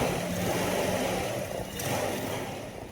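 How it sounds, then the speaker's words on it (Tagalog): A GY6 Rusi 125 scooter engine idles quietly and steadily nearby, a low continuous rumble with slight fluctuations and no speech over it. "Tahimik yung makina."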